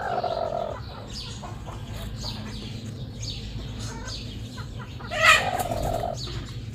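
Hens that have been incubating eggs cluck softly and intermittently at close range over a steady background hum, with one louder call rising briefly near the end.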